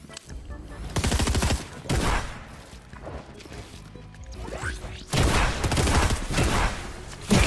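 Bursts of gunfire in Fortnite, loud rapid shotgun and automatic fire in several volleys separated by short pauses, with impacts and crashes between them.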